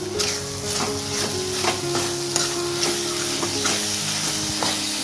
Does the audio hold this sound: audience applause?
no